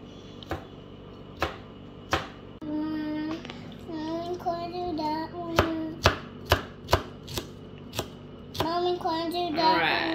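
Sharp knife chopping the tender tips off freshly harvested okra on a board, a series of crisp separate cuts, some in quick succession, with someone talking and other voices in between.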